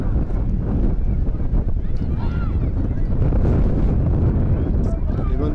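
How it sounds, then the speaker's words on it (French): Strong late-day wind at a football match buffets the microphone with a continuous loud rumbling roar, while a voice talks faintly underneath. "le vent se fait de plus en plus rageur en fin de journée"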